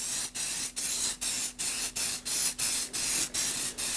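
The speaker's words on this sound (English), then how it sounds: "the best way to repair radiators to fully refurbish them. Is just" Short bursts of aerosol spray hiss in a steady rhythm onto a Kawasaki GTR1400 Concours motorcycle radiator, about ten quick pulses separated by brief pauses, close and fairly loud.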